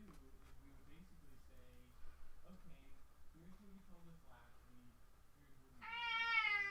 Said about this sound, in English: Oh my gosh, my cat.